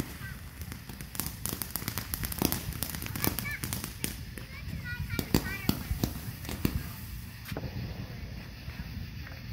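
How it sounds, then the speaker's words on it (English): Roman candle fireworks going off in a backyard at night, throwing a rapid string of sharp pops and crackles while excited voices of children and adults chatter loudly throughout. "Oh, it's a Roman candle, I think."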